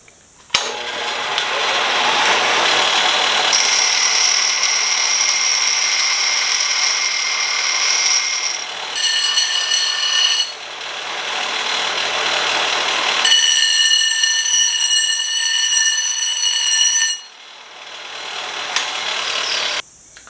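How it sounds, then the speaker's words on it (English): A large grinder whines loudly and steadily as it rough-grinds a chisel forged from a coil spring, in several long passes with brief dips in pitch between them. "I'm going to start over here on my big grinder and just do some of the rough out work on these"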